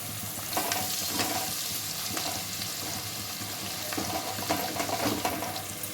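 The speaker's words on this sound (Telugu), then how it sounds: "అల్ల వెల్లు చెక్క అల్లం వల్ల పేస్ట్ పచ్చివాసన పోయే వరకు ఫ్రై చేసుకోవాలి" Green chillies, turmeric and ginger-garlic paste fry in hot oil for a brinjal and fish curry, giving a continuous crackling sizzle with occasional stirring scrapes and no talking.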